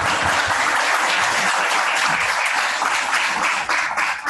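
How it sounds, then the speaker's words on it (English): Loud, dense audience applause at the close of a talk on psychosis and co-occurring disorders for SUD treatment providers, sustained evenly before tapering slightly at the end. "We could give him a round of applause."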